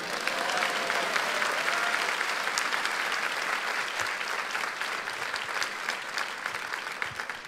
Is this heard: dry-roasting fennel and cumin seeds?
no